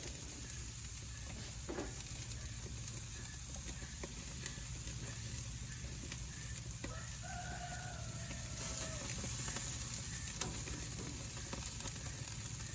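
Hamburger patties frying in a pan, a steady close hiss and crackle of sizzling fat that swells slightly louder toward the end, with no voices.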